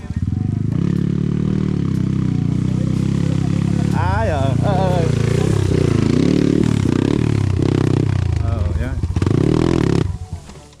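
A motorcycle engine drones steadily close by, revving and sputtering in bursts, with a voice calling out briefly over the engine noise.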